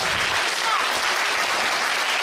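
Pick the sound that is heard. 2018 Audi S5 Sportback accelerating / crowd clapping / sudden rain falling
crowd clapping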